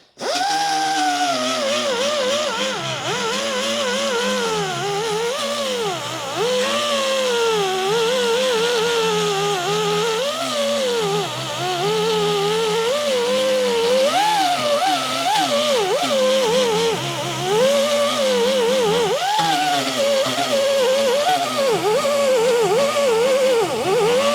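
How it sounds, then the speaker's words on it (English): Die grinder smoothing a cracked plastic kayak during a repair, a loud continuous whine whose pitch wavers up and down as the tool presses into the plastic, close and uninterrupted. "I just prefer the die grinder, it's faster, but it's the same thing. And I'm going to use this to smooth it down a little bit."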